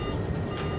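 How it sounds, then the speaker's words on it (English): An aircraft's TCAS traffic collision avoidance alert sounds in the cockpit of a jet cruising at 36,000 feet over Switzerland, a brief steady electronic tone heard alone. "Suddenly, its onboard traffic collision avoidance system, TCAS, sounds an alert."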